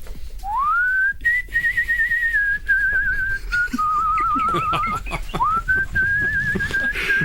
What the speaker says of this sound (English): Can you give us your old man whistle on the spot so everyone can hear this?